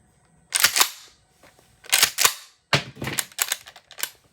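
A Mossberg 940 Pro Tactical shotgun fires low brass shells in three sharp bursts of reports and action clatter, close and loud with short silences between them.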